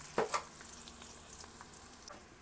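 Onions and garlic frying in a pan over lowered heat, a soft steady sizzle with a few brief clatters of stirring near the start, no talking.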